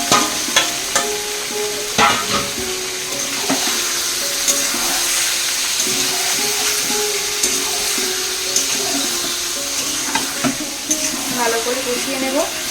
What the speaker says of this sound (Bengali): আগেই ম্যারিনেট করে রেখেছিলাম, চিকেনটা আমি দিয়ে দিলাম